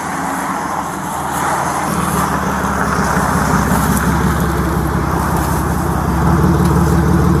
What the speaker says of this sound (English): suddenly a car pulled up to the house with a girl inside